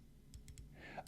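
A haptic titanium and zirconium fidget spinner gives a few quiet, close clicks in quick succession, soft and brief against low background noise.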